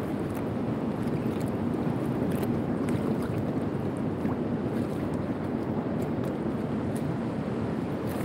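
Seawater rushes back quickly along a shore as waves surge, heard as a steady, broad roar and hiss with wind buffeting close by, no voices.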